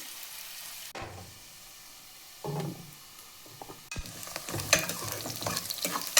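Sliced onions frying in a pan for a mushroom, methi and pea pulao, stirred with scraping strokes over a steady low sizzle that grows busier and louder toward the end, no voices.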